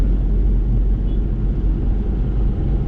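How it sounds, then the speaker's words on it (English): A 2011 Tata Nano's engine in fourth gear drones continuously at a constant pitch, a smooth cruising hum with faint rumble and no revving, heard close up. "this is how the sound of the engine is"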